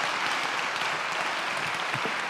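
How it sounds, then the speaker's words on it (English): Steady audience applause after a motivational self-help talk, a dense continuous patter of many hands, fairly loud and unbroken throughout. "Let's give her a nice round of applause."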